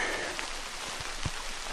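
Rain coming down fairly steadily at Brookville Lake, a soft continuous patter on surfaces with a few louder nearby drops, no voices.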